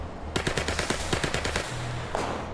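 Close machine-gun bursts in the World War II tactics video game War Mongrels, a fast rattling string of shots over about a second and a half, followed by scattered single reports and background hum.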